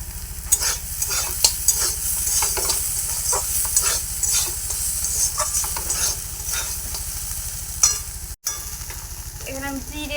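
Chopped banana flower fries in oil as turmeric goes in, a loud, steady sizzle broken by repeated scraping stirs of a spatula against the pan, close up, with a brief cutout near the end and a faint voice.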